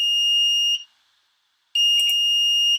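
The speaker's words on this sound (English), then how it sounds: "It has a buzzer, which is just at the back here," A shrill electronic buzzer on an emergency response robot sounds in two long tones separated by a second of silence, with faint clicks during the second.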